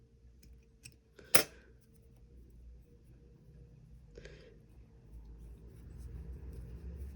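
A single sharp scissor snip cuts the loose end of crochet yarn, close and crisp, followed by a softer second snip against a quiet low background hum.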